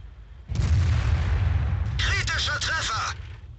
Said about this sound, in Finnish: No niin, saatiin yksi laukaus ammuttua